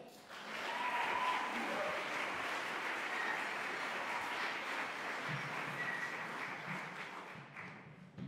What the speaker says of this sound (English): So, warm round of applause for Ben.